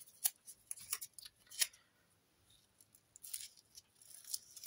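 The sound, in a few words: scissors cutting masking tape in half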